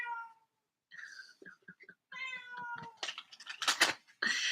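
A pet cat meows several times up close, with short, clear calls separated by brief silences and a louder, drawn-out meow near the end.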